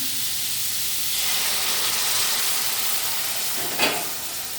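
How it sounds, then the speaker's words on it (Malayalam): Half a glass of hot water hits a hot pan of ripe papaya curry with a steady, loud sizzling hiss that swells and then settles, with a brief clink near the end. "അര ഗ്ലാസ് ചൂടുവെള്ളം ഒഴിച്ച് കൊടുക്കാം"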